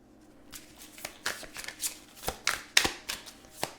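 Tarot cards shuffled by hand up close, a run of soft riffling bursts and flutters in an uneven rhythm, with no talking over them.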